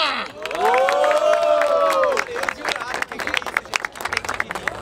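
An audience at a freestyle rap battle in Barueri, São Paulo, welcomes the MCs with clapping and cheers, a loud crowd sound under a shouting voice that gives way to scattered, uneven claps.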